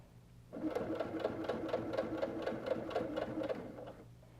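A sewing machine stitches through a four patch quilt coaster sandwich in one continuous run of about three seconds, with close, rhythmic needle thumps that start abruptly and stop cleanly.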